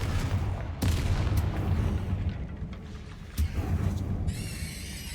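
Bombarda spell blasts in Hogwarts Legacy, a few deep booming explosions with rumbling aftermath, a sharp hit near the start and another later, moderately loud.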